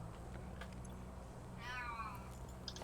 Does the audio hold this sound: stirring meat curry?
no